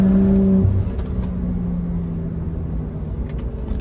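BMW 135i with XHP tune accelerating hard from a launch-control start with wheel spin, a close engine drone that drops in pitch as it shifts, then carries on as a steady running note.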